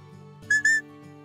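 A shepherd's whistle command for a border collie, made of two sharp, shrill blasts in quick succession. It is close and loud over a faint steady hum.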